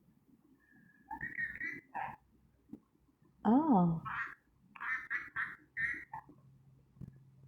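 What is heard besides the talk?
pet parrot squawking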